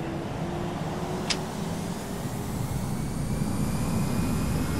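In Microsoft Flight Simulator X, an A320's engines spool up as throttle is applied, a steady, moderately loud jet roar that builds slightly over a few seconds.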